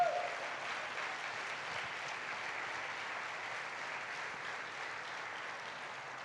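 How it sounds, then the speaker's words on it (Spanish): Sustained applause from a church congregation fills the space, steady and fairly distant, with no voices standing out over the clapping. "Denle fuerte aplauso a Dios"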